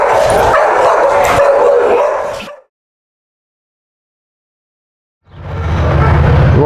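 Dogs bark along a fence line in bursts of close, loud barking, broken by a silence of about three seconds before the barking resumes with deep, rumbling tones.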